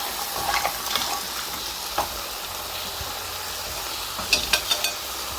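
Mixed seafood with chili flakes and salt is tossed in a hot pan, giving a steady sizzle with scraping strokes and a few light metallic clinks near the end.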